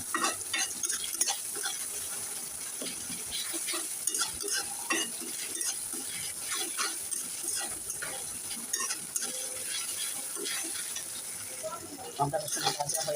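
Ginger and garlic paste frying in oil as a base for a boneless fish bhuna curry, a steady close sizzle with frequent clinks and scrapes of a spoon stirring the pan.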